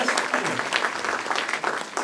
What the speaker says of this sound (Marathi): टाळ्या होतात त्याच्यासाठी